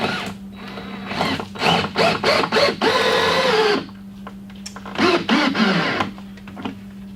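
Power drill driving a screw into pallet wood without a pilot hole, in several short whirring bursts followed by a longer straining run. The bursts repeat after a pause, up close over a steady low hum.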